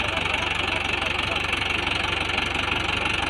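A Mahindra 575 DI XP tractor engine labours steadily while trying to pull out a trailer loaded with wood, a continuous close, loud diesel drone with a rapid knocking pulse throughout.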